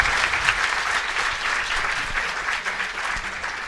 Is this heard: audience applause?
yes